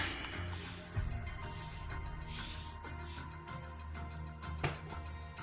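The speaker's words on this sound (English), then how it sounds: "I'm gonna spray more water." A few short hissing bursts of water spray from a spray bottle, fairly close, over a steady low hum in the background.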